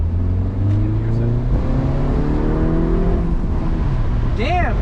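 A turbocharged Mazda NA Miata pulls hard at night, its engine note climbing steadily through the revs from inside the cabin, loud and close, as occupants talk over it.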